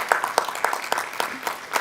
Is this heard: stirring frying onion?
no